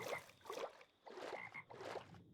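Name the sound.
frog croaking in the video game RLCraft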